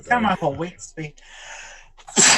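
A single sharp sneeze bursts out at the end, preceded by people talking and a short breathy pause.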